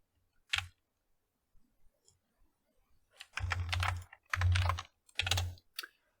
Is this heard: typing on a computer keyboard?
yes